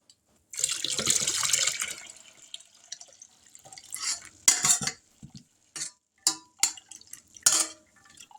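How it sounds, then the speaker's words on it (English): Water is poured into a pot of ham and potato soup in a home kitchen, a rushing splash lasting over a second, followed by scattered clinks and sloshing of stirring. "Let me pour just a little bit more water in there."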